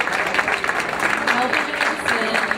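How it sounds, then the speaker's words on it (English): At a Circassian Education Foundation fundraising dinner, a room of guests gives a round of applause, a steady, fairly loud clapping texture with murmured voices blended underneath. "let's give him a little round of applause"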